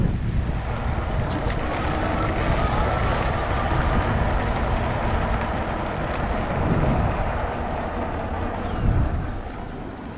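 iGO Electric Core Extreme 2.0 e-bike rolling over concrete with fairly high tire pressure, giving a steady broadband road rumble and wind rush that holds level throughout, with no talking.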